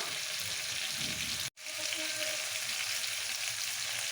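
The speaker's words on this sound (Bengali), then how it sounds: "আলু বেগুন শিম হালকা ভাজা হয়ে গেছে" Potato, eggplant and beans frying together in a pan, a continuous loud sizzle with a brief cut in the middle before the frying resumes.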